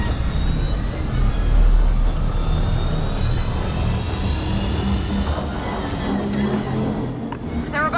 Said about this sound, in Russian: Гипердвигатель? Они готовятся к прыжку!